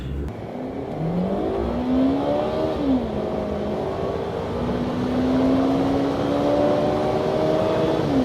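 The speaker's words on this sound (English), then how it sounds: "We'll now go for a ride, and we'll see if we can do a quick maybe 0 to 100 pull." A 2001 Audi A4 Quattro pulls hard from a stop toward 100, its engine note rising through the gears with audible shifts, a loud steady interior drone with no talking.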